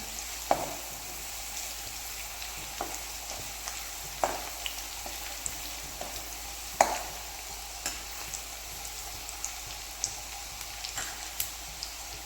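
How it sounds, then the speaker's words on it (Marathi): Garlic sautés in a pan over a medium flame, giving a soft, continuous sizzle with occasional light taps and scrapes of a spatula, close but fairly quiet. "मिडियम फ्लेमवरती लसूण आपल्याला दोन ते तीन मिनिटासाठी व्यवस्थित परतून घ्यायचं आहे"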